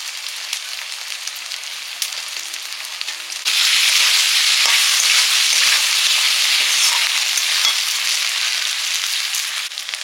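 Spices and salt sautéed in a hot pan, a loud continuous frying hiss that jumps up sharply a few seconds in and stays dense and close, with faint stirring under it and no voices.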